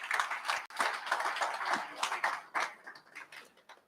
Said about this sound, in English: Another round of applause for Ndunankulu.